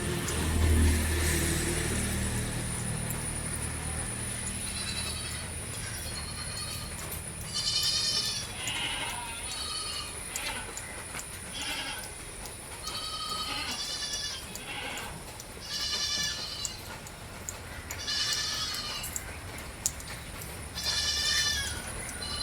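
Goats at a livestock sale, a milking doe with two male kids about six weeks old, bleat over and over in short wavering calls, close and fairly loud, with a faint engine hum in the background.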